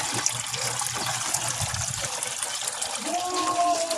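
Running water pours steadily into a pond tub, a continuous gushing splash with a faint low hum and some background noise.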